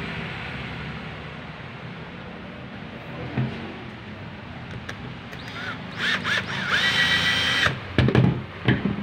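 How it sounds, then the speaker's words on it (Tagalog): A cordless drill bores into wood during cabinet making, with short whirring bursts that rise near the end over a hissy workshop background. "Ginamitan po natin ang wireless na barena."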